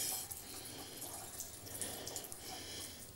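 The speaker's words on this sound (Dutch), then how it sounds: "gewoon water uit de kraan" Tap water runs in a steady, hissing stream, continuous and moderately close with no voices.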